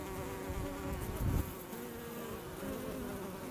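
Honey bees swarm around a beehive around their queen, making a dense, continuous droning buzz that stays close and steady throughout.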